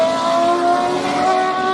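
Matra V12 Formula 1 racing engine howling at high revs, a steady, loud, sustained multi-cylinder wail with strong tonal harmonics and slight pitch wavering, close and continuous with no voices.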